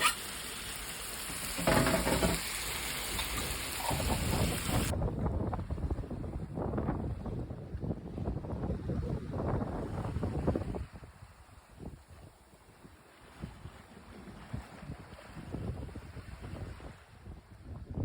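A sailboat out at sea on an offshore passage, with steady wind buffeting the microphone over the rush and slap of waves along the hull, continuous and fairly loud, easing off somewhat toward the end.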